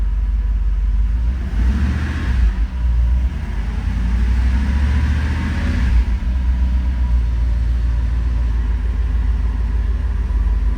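A 1989 Mercedes-Benz 560 SL runs after a cold start, giving a loud, steady low rumble with a couple of slight swells early on and no talk over it.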